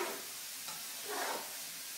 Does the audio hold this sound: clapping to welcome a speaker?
no